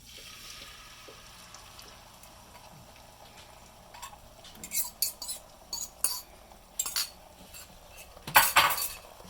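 Metal spatula scraping and tapping in a pan as beaten eggs for an omelette are spread around, a run of sharp clinks and scrapes that grows busier and louder toward the end, with faint bubbling beneath and no talk.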